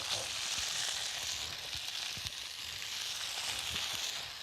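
Food, likely tofu, fries in a little oil in a non-stick pan, giving a steady, fairly quiet sizzle with small pops and occasional stirring scrapes, with no talking.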